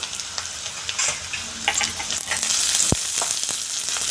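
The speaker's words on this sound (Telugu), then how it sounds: "పెద్ద ఉల్లిపాయ కొద్దిగా వేగితే చాలు" Sliced onions for chilli chicken frying in a hot pan, a loud, steady sizzle with a few scrapes of stirring and one sharp knock near the end.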